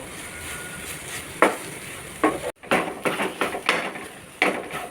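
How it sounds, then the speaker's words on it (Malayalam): Banana sautéed in a pan with grated coconut added, stirred with a utensil: a steady soft sizzle broken by several sharp scraping clinks against the pan, one brief pause in the middle, no voices. "ഇനി ഇതിലേക്ക് തേങ്ങ ഇട്ട് കൊടുക്കാം ഒന്ന് ഇളക്കി കൊടുക്കാം"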